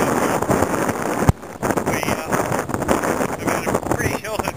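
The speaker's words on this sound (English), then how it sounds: "As you can probably hear, it's extremely windy up here." Strong wind on an exposed mountain pass buffets the microphone in loud, gusty roars throughout, with a brief sharp break partway; a voice may be faintly present beneath.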